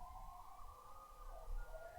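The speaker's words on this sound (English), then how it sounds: "Like a straight up ambulance sound, like a smooth one isn't enough to like woo, woo, woo." An ambulance siren wails from a distance on a quieter city street, a smooth rising and falling tone that stays faint and continuous under low background rumble.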